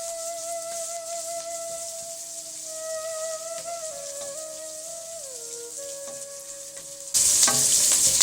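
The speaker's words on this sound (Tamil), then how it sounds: "வெங்காயம் நல்லா வதங்கிட்டோம்." Chopped onions sauté in a small cooking pot, giving a steady, close sizzle that runs throughout under background music and swells louder near the end.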